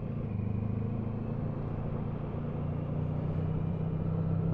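A motorcycle engine holds a steady throttle on a town ride, a continuous low, even drone with a slight rise in loudness toward the end and no talk over it.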